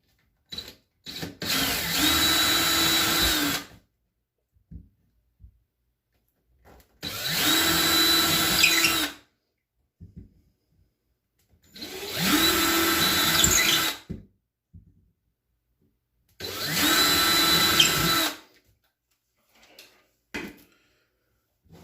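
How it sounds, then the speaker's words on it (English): A power drill with a 3/16 bit bores holes in four separate bursts of a few seconds each, loud and close, with short quiet pauses and small handling clicks between them. "Got my 3/16 drill bit, just like the instructions say."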